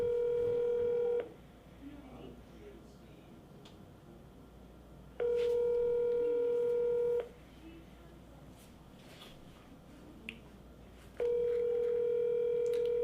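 Telephone tones on an outbound call to a final expense insurance lead, three steady ringback bursts of about two seconds each, evenly spaced by quiet gaps with faint room noise between them.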